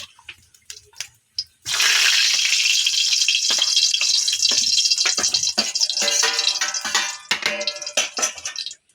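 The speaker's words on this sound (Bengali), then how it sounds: "আমরা এবার ভাজা আলুটা এর মধ্যে দিয়ে দিচ্ছি" Fried potato pieces drop into hot water in a pan for khichuri, setting off a sudden loud hissing sizzle that rages steadily, then breaks into crackling bursts as it settles.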